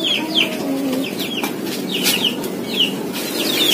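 Chicks cheeping in a workshop where a motorcycle is being repainted, high piping peeps coming in short bursts throughout over a steady low hum, with faint rustling underneath.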